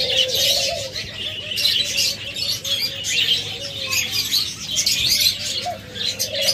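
Caged pet budgerigars, cockatiels and lovebirds at a bird sale, chirping and twittering continuously in a dense, busy chorus close by, with no talk.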